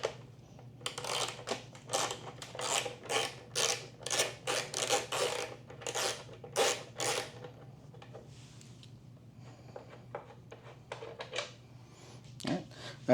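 Ratchet or hand tool clicking steadily as a 4 mm bolt is worked loose from a turn signal on a 2024 Yamaha MT-10 motorcycle, a close, rapid run of short strokes that thins out to sparse taps near the end.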